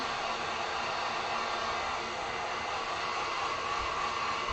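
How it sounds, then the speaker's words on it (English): Steady loud whoosh of a heat gun blowing over wet acrylic paint on a shamrock and horseshoe sign, a constant airy roar with no breaks for several seconds. "Let me throw the heat gun on this real quick"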